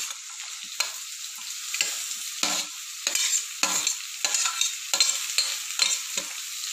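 Chopped shallots and onion sautéing in a pan with green chilli for mutton varattiyathu: a loud close sizzle broken by repeated scraping stir strokes about every half second, with no voices.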